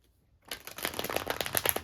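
A deck of tarot cards being shuffled by hand. A quiet moment gives way to a close, quick run of riffling flicks and soft slaps that grows louder toward the end.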